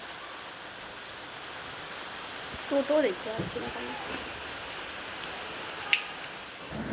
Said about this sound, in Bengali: বৃষ্টিটা এখনই আসতে হতো